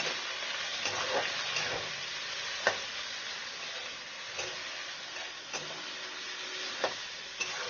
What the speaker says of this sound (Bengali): এবার এর মধ্যে 1 চামচ নুন দেবো। একটু ফ্রাই করে নেবো।